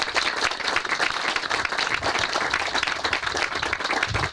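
Applause from an audience at a San Ramon city ceremony: steady, dense clapping that fills the whole moment at moderate loudness, without pauses and with no talk over it.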